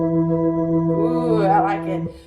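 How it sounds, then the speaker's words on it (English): A jazz organ in an oldies rock and roll style holds a steady sustained chord with a short rising flourish before it cuts off, played alone and close. "This is a jazz organ."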